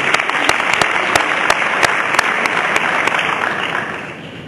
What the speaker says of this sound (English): Let's have a big round of applause for Bob Dill.